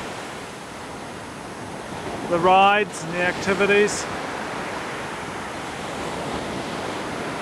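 Ocean surf rolls onto a Maryland beach as a steady broadband roar, fairly loud and unbroken, while a voice briefly speaks over it midway.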